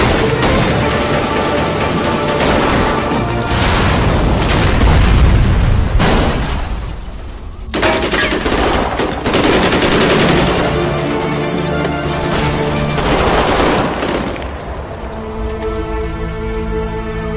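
A Korean drama shootout fills the scene with dense booms and rattling gunfire layered over tense background music, loud and continuous throughout with a short lull near the middle.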